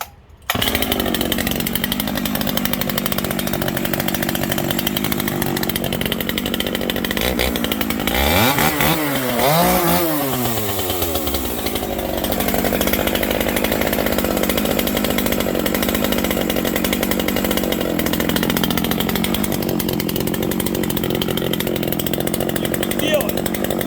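A Makita 9010 chainsaw fitted with a modified muffler runs loud and close throughout, revving up and easing back with a rising and falling whine in the middle, its engine roar steady under occasional voice.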